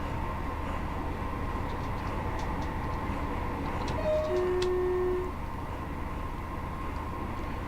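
A Pacer diesel train in a simulator runs along the twisty Woodhead route, giving a steady rumbling drone with a brief whistle-like tone midway and no voices.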